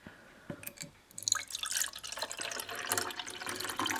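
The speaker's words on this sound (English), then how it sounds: "we take the jug of water and we want to pour into the cup like this" Water pours steadily from a jug into a cup, a splashy trickle that builds into a fuller stream after a few faint drips, close by.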